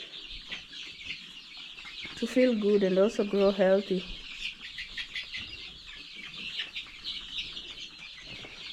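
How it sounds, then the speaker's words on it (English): Chickens on a poultry farm cluck and chatter steadily in the background, with a louder cackling call rising for a couple of seconds, while a person speaks over them. "chickens also need sleep"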